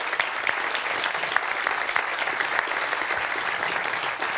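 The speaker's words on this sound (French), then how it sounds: "On peut vous applaudir" An audience applauds elementary school pupils from Candia, a steady dense clapping that fills the room and continues evenly throughout.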